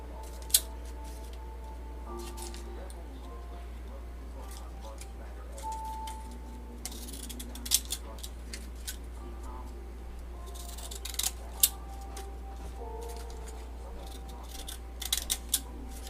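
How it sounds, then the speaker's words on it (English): Jagged craft scissors snip through paper in a quiet room, with scattered soft clicks and short sharp cuts spread irregularly over a low steady hum. "I'm gonna use my jagged scissors."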